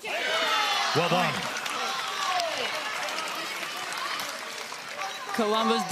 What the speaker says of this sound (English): Paris Todd completely unfazed by the crowd chanting